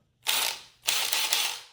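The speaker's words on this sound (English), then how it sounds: "There's the impact driver" Two bursts from an impact driver, each a harsh rapid hammering rattle about half a second to nearly a second long, loud and close, separated by a brief pause.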